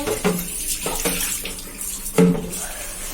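Water pouring into a clay matka, a gurgling, splashing fill with a few sharper knocks and sloshes along the way, close and fairly quiet, no speech.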